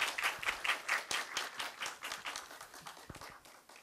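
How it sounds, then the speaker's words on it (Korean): Applause from the audience at a lecture in a citizens' democracy school series, clear rhythmic clapping that starts strong and gradually thins out, moderately close, with no voices. "뜨거운 박수 부탁드리겠습니다."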